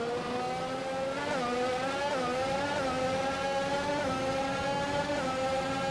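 F1 2021 race cars in the video game on Xbox Series X, heard in the TV-style broadcast mix from a chase camera. A steady, loud, high engine whine runs throughout, with pitch shifts as the car changes gear and accelerates, and nothing else is heard.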